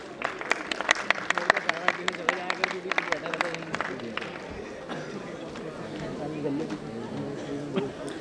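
An annual day audience applauds the institute's rank achievers, starting with sharp, distinct claps that soon blend into a softer wash of applause as a voice speaks over the hall.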